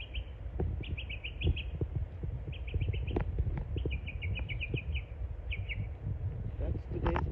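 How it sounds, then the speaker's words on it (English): Bird calls in a garden near pumpkin vines and a tree: short repeated high chirps in clusters recur across the clip, moderately near, over low rustling and some handling noise. "And that bird is calling me."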